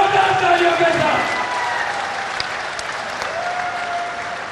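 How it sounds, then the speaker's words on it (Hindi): Loud crowd applause at an election rally welcoming the chief minister, strong clapping at the start that settles into steadier clapping, with an announcer's voice talking over it. "खड़े होकर जोरदार तालियों से आदरणीय मुख्यमंत्री जी को आमंत्रित करिए, जोरदार तालियों के साथ।"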